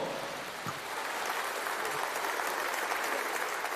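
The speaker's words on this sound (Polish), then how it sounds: "Dużymi oklaskami, witamy." A concert audience at a Silesian folk gala applauds steadily to welcome a duo on stage, a dense, even clapping that fills the whole stretch without talk.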